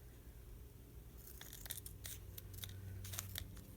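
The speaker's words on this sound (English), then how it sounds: "So just cut right straight across there." Scissors snip repeatedly through paper, cutting it into small squares for a craft journal, producing a run of crisp, close cuts over a steady low background hum.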